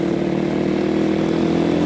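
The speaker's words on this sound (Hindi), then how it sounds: "अब मैं अपनी रिव्यू करने से पहले इस बाइक के स्टार्ट करता हूँ" A KPR 200 motorcycle engine running after starting, a steady mid-pitched idle hum with a constant throb, close and loud throughout, no talk.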